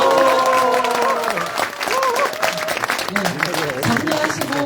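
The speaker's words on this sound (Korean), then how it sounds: "저희 원플러스 두 분께 다시 한번 뜨거운 박수" A crowd at a Korean education talk event applauds warmly, close and loud, with a voice speaking over the clapping early on before the applause carries on steadily.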